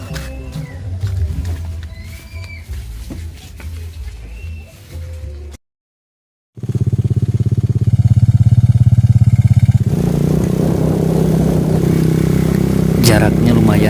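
A borrowed motorcycle rides along in Indonesia with a loud, steady engine drone and some rough, rumbling passages, and a brief drop to silence partway through.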